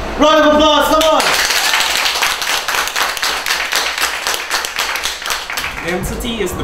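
A lively crowd at a school science lab event bursts into a round of applause, dense rapid clapping that swells quickly and carries for several seconds, with a voice speaking briefly at the start and again as it fades.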